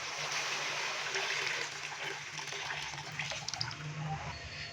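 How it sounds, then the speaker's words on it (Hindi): Yakhni broth poured into a pot of spiced beef pulao makes a steady, watery rushing that stays even for most of the stretch, then eases off slightly. It is heard close up and alone, with no talk over it. "अभी मैं इसके अंदर यखनी डालूंगा।"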